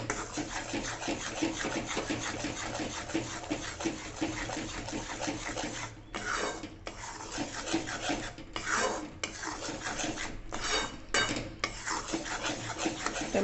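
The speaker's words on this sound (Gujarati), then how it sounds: "1 મિનિટ આવી રીતના એને હલાવતું રહેવાનું અને સુખડી બનાવતી વખતે આને હલાવતા રહેવું જરૂરી છે।" A spoon stirs sukhdi flour roasting in ghee in a metal pan, a continuous scraping and rubbing close by with brief pauses between strokes, no voices.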